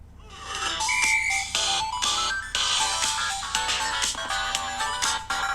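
A melodic ringtone plays through the speaker of a Samsung Galaxy A23 phone, bright and fairly loud, with a repeating phrase of tones and short pauses between the notes.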